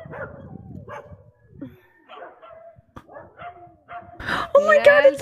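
Street dogs bark, yip and whimper in a scattered series of calls, with people talking in between and a louder burst of barking near the end.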